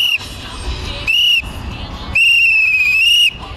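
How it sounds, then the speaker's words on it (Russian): Referee's whistle blown in three long shrill blasts at the close of a city mini-football tournament for neighbourhood teams, the last blast the longest, over a steady murmur of an outdoor crowd. "Раскатистый свист судьи оповестил об окончании четвертого городского турнира дворовых команд по мини-футболу."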